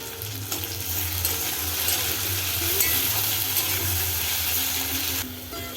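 Ridge gourd and eggplant frying with salt and turmeric for a pumpkin stalk curry give a close, continuous sizzle and crackle, with spatula stirring and scraping running throughout.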